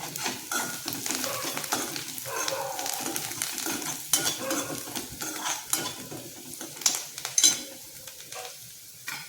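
Spices and curry leaves roasting in a pan for idli fry, giving a steady close sizzle broken by frequent clinks and scrapes of a spoon stirring against the metal, with no voices.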